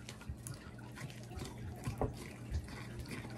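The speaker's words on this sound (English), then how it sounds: "We're going to stir it all up" A spoon stirs a homemade honey remedy in a container, making soft, quiet wet clicks and gentle scraping in an irregular rhythm, close up with no talking.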